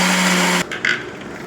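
Electric mixer grinder buzzing loudly as it coarsely pulses soaked chana dal for vada, then cutting off abruptly, leaving faint rattling afterward.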